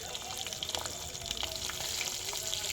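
Whole green chillies and whole garlic cloves frying in oil for a minced meat and pointed gourd dish, a soft steady sizzle with light stirring clicks close by.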